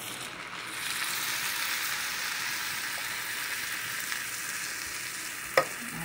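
Mushrooms with tomato paste sizzle and hiss steadily in a frying pan as they are stirred, with a soft scrape near the end; no one speaks.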